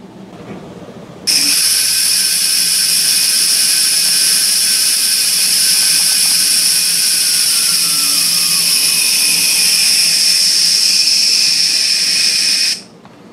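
Four drone motors driven by Castle Creations multi-rotor ESCs spin up after a power cycle, holding a loud steady high whine for about eleven seconds before cutting off, no voices.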